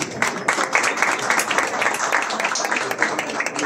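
Audience applause at an award ceremony, a steady wash of many hands clapping throughout, fairly loud and continuous with faint voices mixed in.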